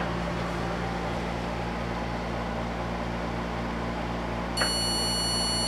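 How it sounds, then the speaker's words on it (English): A single brief electronic beep from an embedded device with a three-digit numerical display sounds near the end, cutting through a steady whirring fan hum. "there's an audible notification"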